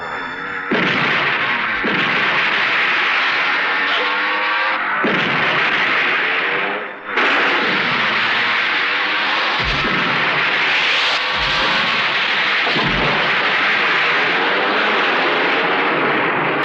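Gunfire and explosions from an action scene in the 1999 Hindi film Gair, a loud, dense, sustained barrage with heavy booming bursts and brief dips, filling the whole stretch with no clear talk.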